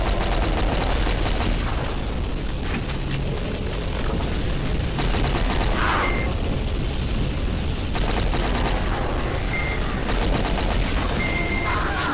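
Dense video game gunfire and booms in a French-language shooter, continuous and loud throughout, with bursts and blasts layered over a busy battle din.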